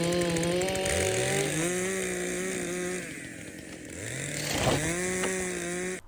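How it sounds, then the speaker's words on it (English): A STIHL MS 400 C-M chainsaw revs and bogs steadily as it cuts through wood, loud and close, its engine pitch dipping under load then climbing again. "I've been delimbing, pretty much doing everything with this chainsaw"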